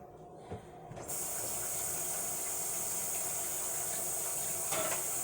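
A kitchen tap is turned on and water runs steadily into a sink for hand washing, a close, continuous hiss that starts about a second in after a few small bumps.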